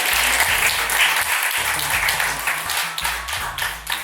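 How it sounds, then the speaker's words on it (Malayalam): Sustained audience applause at a college Onam celebration, a dense wash of many hands clapping steadily and fairly loud, with a low rhythmic musical thump running underneath. "ഒരു വലിയ കൈയടി നിങ്ങൾക്ക് വേണ്ടി തന്നെ"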